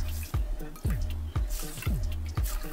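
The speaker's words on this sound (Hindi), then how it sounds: "ये सुनीसा वाला ब्यूटी ब्लेंडर को अच्छे से गीला करूंगी" Water drips steadily from a soaked makeup sponge in quiet, close, separate drops, falling about every half second into a sink.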